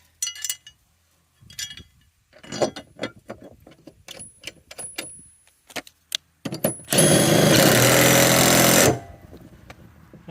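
A Toro Timecutter zero-turn mower with a rattle, after its caved-in washer has been rotated. Scattered metallic clinks and taps come first, then a short, loud burst of engine noise that cuts off abruptly.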